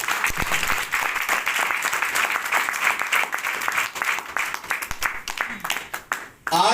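Loud, dense applause from an audience welcoming a speaker at a company event, sustained for several seconds with a few sharper individual claps, then thinning out near the end as a voice begins.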